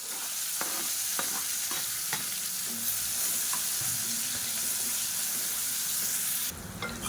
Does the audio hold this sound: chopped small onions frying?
yes